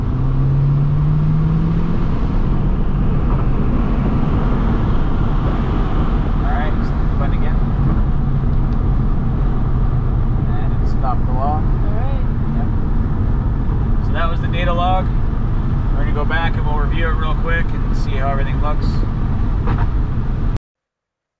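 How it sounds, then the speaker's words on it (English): A tuned Audi S3 pulls hard at full throttle in third gear, its engine a steady loud roar throughout as voices talk over it. "Get into third gear. I'm just gonna hit the button. Go ahead. And then we're gonna go full throttle."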